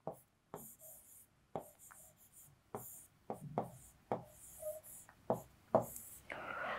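Pen strokes on paper during a tense grammar lesson, arriving as short scratchy bursts spread over several seconds, close and fairly quiet, with no talking over them.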